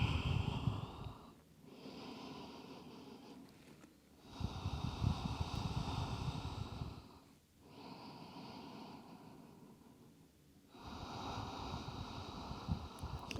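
Slow, deep breaths during a yoga stretch, each long nasal inhale and exhale close and clearly audible, alternating with brief quieter pauses in a calm, even rhythm, with no talking.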